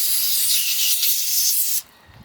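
Cleaner sprayed onto the carburetor of a Cub Cadet 1170 lawnmower, a continuous close hissing burst that cuts off sharply, leaving quiet background afterward.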